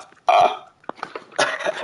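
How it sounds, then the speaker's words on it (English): A short, croaky burp-like sound effect in the basketball game 3on3 Freestyle, two loud bursts about a second apart with a brief click between them. "People say that sounds like a burp."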